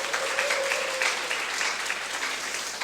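An audience at a Korean company presentation applauds steadily throughout, a dense, even wash of clapping from a sizable crowd with no talk over it.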